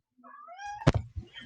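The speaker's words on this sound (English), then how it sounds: "I have a cat that's annoying me right now" A house cat lets out a single drawn-out, rising meow at close range, followed by a couple of soft knocking thuds.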